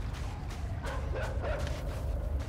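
Dog barks and whimpering yips from the video game Inside, heard as a few short calls at moderate distance over a steady low rumbling game ambience, with no talk.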